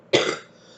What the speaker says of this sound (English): I have not been coughing like this all morning